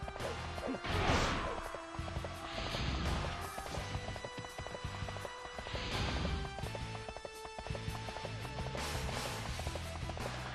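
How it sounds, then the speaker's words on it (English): Horse galloping in the video game Dynasty Warriors 3, clip-clopping hooves under battle clashes, whooshes and thwacks, with bursts of impact noise and a musical backdrop, no talk. "I should get on my horse and go over here."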